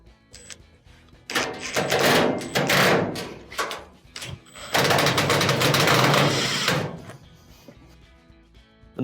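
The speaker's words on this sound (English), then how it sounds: "We'll reinstall our 2 screws." Screws driven back into the panel of an LG dryer with a power driver, two sustained whirring bursts of a few seconds each, close and loud, separated by brief quiet handling clicks.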